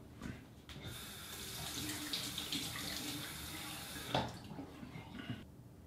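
A bathroom tap runs steadily while a beard trimmer is rinsed beneath it, a close, continuous hiss of water with a brief splash near the end and no talking.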